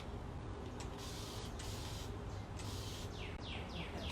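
Short hissing bursts of spray paint come one after another, faint against a steady background rumble.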